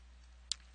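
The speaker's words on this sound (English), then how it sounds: "click the Next button." A single sharp computer mouse click, brief and crisp over a steady low electrical hum.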